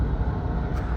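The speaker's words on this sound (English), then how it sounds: "Excuse the fan. There's no way to turn it off at all." A fan that cannot be switched off runs with a steady, broadband whoosh and low rumble, close and even for the whole second.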